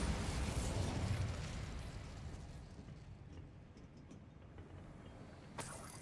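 A Bombardo spell explodes in Hogwarts Legacy with a loud blast at the start that rumbles and decays over several seconds, followed by a small sharp crack near the end.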